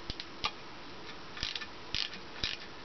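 Bolts being snugged up with a ratchet while a 600 watt PMA wind turbine is mounted, a few sparse close metallic clicks and ticks spread over a quiet background.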